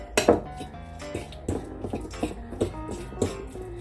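Egg salad being mashed and stirred in a bowl, a string of sharp clinks and scrapes of a utensil against the dish, close and irregular, several hits in quick succession.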